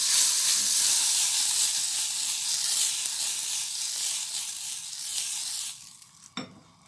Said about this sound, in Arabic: غادي ندهنوها بشويه ديال الزبده